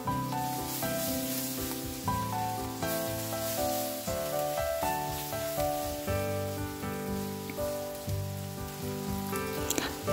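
Noodles with carrot and other vegetables sizzle steadily in a hot pan while being stirred, a continuous close frying hiss with soft scraping, no talking.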